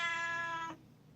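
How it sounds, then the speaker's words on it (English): A house cat gives a single drawn-out meow, close and clear, fading into quiet. "That was the cat."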